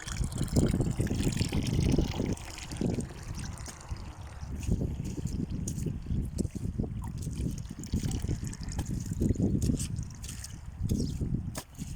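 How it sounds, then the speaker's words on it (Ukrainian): Mineral spring water flowing and babbling steadily close by, a continuous rushing trickle with small splashes throughout. "Чистенька мінеральна вода тече правильно по Коболчинському шипоту"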